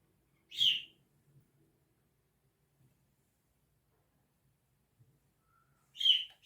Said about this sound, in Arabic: عصافير الحلوين بيصبحوا عليكم.